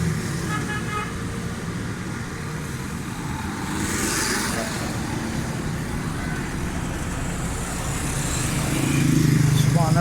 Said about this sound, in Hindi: साउंड भी माशाल्लाह बहुत ज़बरदस्त है गाड़ी का